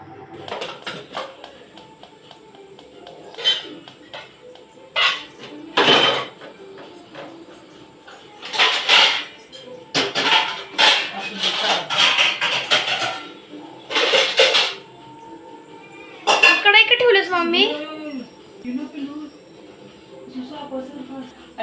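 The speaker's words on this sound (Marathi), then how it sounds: "सकाळी भांडी वगैरे क्लीन करून ठेवली होती ती पण मला कपाडाला लावायची आहेत" Dishes and pots clatter and clink in separate bursts as they are put away in a cupboard, with quiet gaps between.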